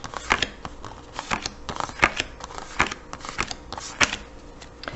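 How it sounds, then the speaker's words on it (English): Timeline cards for a board game are dealt onto a table one after another in quick, irregular snaps and slaps. The sounds are close and fairly quiet, with no talking. "you're going to deal each team 8 timeline cards"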